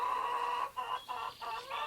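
Hens clucking in a farmyard, a steady run of close, moderately loud clucks with short pauses between calls and no voices.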